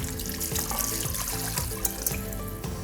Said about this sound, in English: we're going to add in our vegetable broth, which is 5 cups